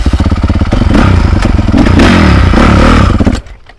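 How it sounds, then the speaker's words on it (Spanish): A motorcycle engine cranks and sputters repeatedly, loud and close, with clattering mechanical thumps as it fails to catch, then cuts out abruptly near the end. "esta moto no quiere prender"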